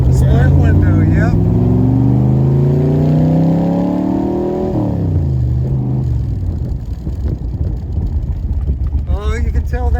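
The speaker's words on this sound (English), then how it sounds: "Yeah, I told Lindy that my next car is going to be a Corvette" A 1963 Chevrolet Corvette split window accelerates hard, its engine note climbing through the gears close by, then dropping, with wind noise and people talking inside the car.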